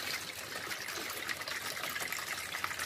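Cold water pours steadily into a large bowl in a home kitchen, a continuous soft gushing and splashing that stays fairly faint and even throughout, with no voices.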